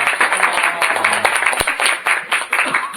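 Audience clapping to welcome a lecturer at a Korean leadership school event, brisk and close, with uneven individual claps and a few sharp thumps under light background voices.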